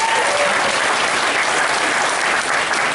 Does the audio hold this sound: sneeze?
no